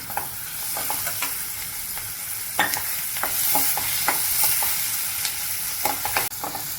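Chopped tomato and peanuts sauté in a pan with a constant sizzle and frequent sharp clicks and scrapes of a spatula stirring, close and fairly loud, no talking.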